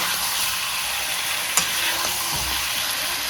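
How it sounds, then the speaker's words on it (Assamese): Steady, dense sizzling of chicken frying in a hot pan, continuous and close, with a brief clatter of stirring midway. "এক কাপ চিকেন পূৰা ভাজি আছোঁ"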